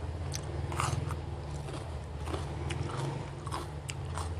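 Crunchy food is chewed close to the mic in quick, crisp bites with repeated crackling crunches over a few seconds and no talking.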